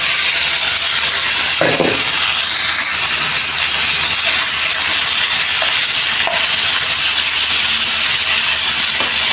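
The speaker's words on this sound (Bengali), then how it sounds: "ভেন্ডির ভিতরে গোস্তটা ভাজা নিতেছি।" Meat frying among okra in a home kitchen sizzles loudly and continuously, with occasional stirring scrapes and clinks rising over the steady hiss, close up and with no speech.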